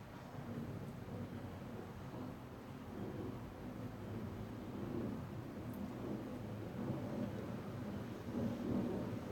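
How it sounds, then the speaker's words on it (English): A low, broad rumble of an airplane passing overhead during an evening thunderstorm in Leander, Texas, distant and sustained, swelling slightly toward the end. "Oh, that's an airplane."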